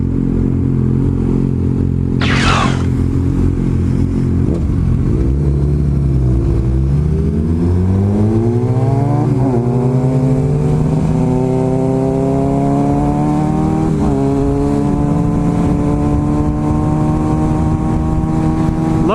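A motorcycle engine idling loudly up close, then revving with pitch swinging up and down before settling into a steady higher throttle hum, alone without talk.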